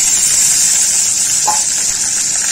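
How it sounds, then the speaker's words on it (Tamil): Small shallots and garlic sautéing in hot oil with tempered vadagam for a karakkuzhambu, a dense, even sizzle that stays loud and continuous throughout. "நான் வந்து ஆயிலில் வடகம் போட்டு தாளிச்சிட்டேன். அடுத்தது சின்ன வெங்காயமும் பூண்டும் போட்டிருக்கேன்."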